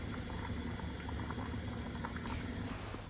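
Garlic and chilli slowly cooking in oil over very low heat, giving a steady, soft bubbling and sizzling hiss that continues evenly throughout with no talking.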